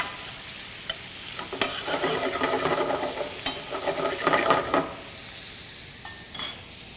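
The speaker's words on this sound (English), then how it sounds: "Taking a look at the bacon, I want to get it kind of a light brown before I add the onions." Bacon frying in a pot for baked beans, sizzling steadily with a spoon stirring through it in bursts of scraping and clinks, close and alone with no voices.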